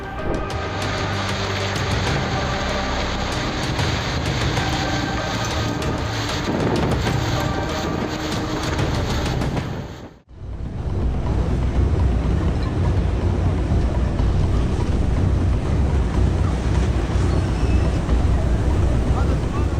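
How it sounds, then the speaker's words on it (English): Loud, roaring storm wind buffets the microphone in heavy continuous gusts, briefly dropping out midway before the blustery rush resumes at full strength. "During a recent storm, the wind was so strong that it effortlessly toppled trees."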